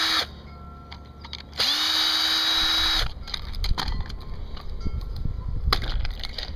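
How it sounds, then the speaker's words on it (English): A power drill whines in short bursts at reduced speed, spinning up and stopping, with scraping and knocking between runs while rebuilding a Hunter sprinkler control valve. "Slowed my drill down a little bit there so it doesn't throw everything all over the place."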